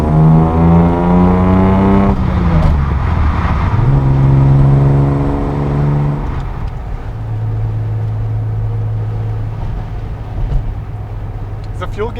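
A restomod Datsun 280Z accelerating hard through a corner, engine revving loud and close from inside the cabin, pitch climbing then dropping through gear changes, with people talking over it.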